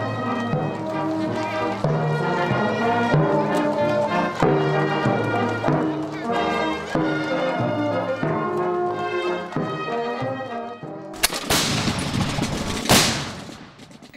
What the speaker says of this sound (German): Kanonenschüsse künden den frohen Leichnamstag an.